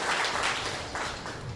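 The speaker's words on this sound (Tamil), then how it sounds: "ஒரு கைத்தட்டு கொடுக்கலாம், ரொம்ப அழகாக சொன்னாங்க." Audience applause at a spiritual satsang gathering in Chennai, a short burst of many hands clapping that swells and then thins out over about a second and a half, with no talk over it.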